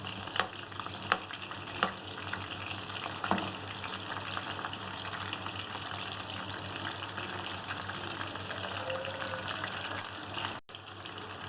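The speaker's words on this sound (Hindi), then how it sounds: "अब हम इसको दूसरी तरफ से फ्राई करेंगे।" Seekh kebabs frying over medium-low heat in a pan give a steady, continuous sizzle, with a few sharp clicks and knocks early on and a brief dropout near the end.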